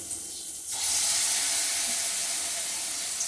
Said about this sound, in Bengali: গ্যাসের হিটটা মিডিয়ামে করে দিচ্ছি।